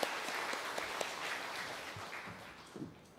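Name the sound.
congregation applauding to welcome new members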